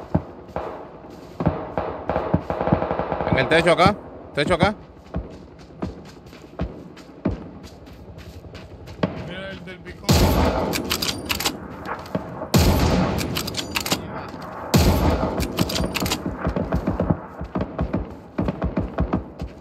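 Gunfire in the battle royale shooter PUBG: Battlegrounds, with bursts of loud shots clustered in the second half, mixed with game ambience while a player talks over it.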